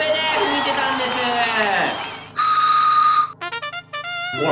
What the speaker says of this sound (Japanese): こちら人参で作った笛で吹いてたんです。